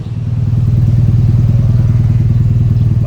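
Idle of a Honda Civic EG hatchback engine fitted with a flex pipe and a 24-inch resonator: a steady, close, low exhaust burble with an even pulsing rhythm, sounding alone for about three seconds.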